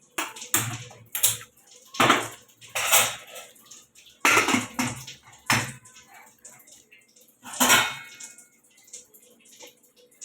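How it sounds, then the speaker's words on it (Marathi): Vegetables washed in water in a pot in a home kitchen, giving a string of loud, close splashes, clinks and knocks in uneven bursts with short pauses between. "आता ह्या सगळ्या भाज्या मी धुवून घेते ह्यामध्ये पाणी टाकते"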